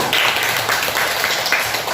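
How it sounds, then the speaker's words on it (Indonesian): Classroom applause during an Islamic cultural history lesson: a steady, dense patter of many hands clapping together, moderately loud and continuous throughout, with no clear pauses. "Ya, tepuk tangan"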